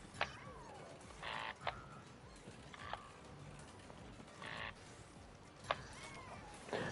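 A video game frog gives short croaking calls, a few separated bursts spaced irregularly over a faint steady background, fairly quiet and alone without talk.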